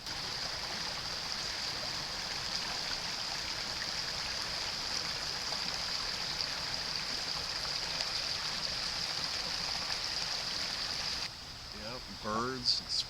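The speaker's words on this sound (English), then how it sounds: "there's a babbling brook." A babbling brook runs beside a rural road, a steady broadband rush of flowing water that continues unbroken, then drops away briefly near the end as a faint voice is heard.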